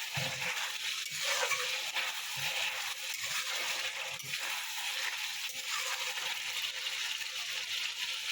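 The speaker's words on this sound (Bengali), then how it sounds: "এটায় মাছের মাথা দিয়ে ভালো করে মাছের মাথাকেও কষে নেবেন" Fish head frying in ginger garlic masala in a pan, a steady close hiss of hot oil with soft irregular stirring and scraping underneath, no voices.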